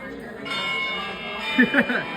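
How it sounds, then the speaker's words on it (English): A church bell rings steadily with a bright, sustained metallic tone, joined by a few louder strikes near the end and faint voices beneath. "I love the church bells."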